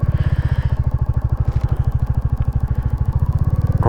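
A Royal Enfield Classic 350 motorcycle thumps along wet, potholed country lanes in South Yorkshire, its single-cylinder engine pulsing in a loud, steady rhythm close up throughout, with no voices.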